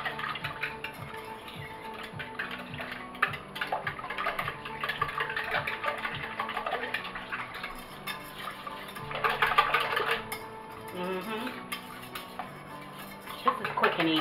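Eggs being mixed for bread pudding, with clinking of a utensil against a bowl and kitchen clatter, steady and close, with a louder burst of rattling partway through.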